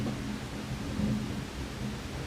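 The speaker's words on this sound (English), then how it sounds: "we got a thunder situation outside" Thunder rumbling outside during rain, a low, faint, continuous roll under a soft wash of rainfall, with no talk.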